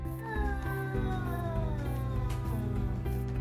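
A cat gives a long, drawn-out meow that slides in pitch, sounding close and insistent, with no talking.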